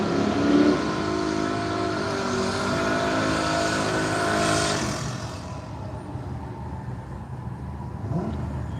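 Drag racing cars at Willowbank Raceway in Australia roar loudly for several seconds, a Commodore Ute among them, then the engine noise fades into a distant rumble with a brief rising whine near the end.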